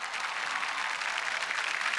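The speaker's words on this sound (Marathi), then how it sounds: "जोरदार टाळ्या सुजयसाठी म्हणजे सुव्रत जोशीसाठी।" Sustained audience applause at a Marathi comedy show stage event, dense steady clapping from a large crowd throughout, with no voices on top.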